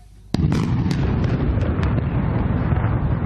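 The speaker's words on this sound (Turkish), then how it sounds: "Evet, ilk patlama gerçekleşti. Gerçekten müthiş bir ses ve ardından duman." Explosive demolition of a building in Turkey with a 300 kg bomb: a sudden loud blast after a short quiet, followed by a long rolling roar and rumble with scattered cracks and debris impacts.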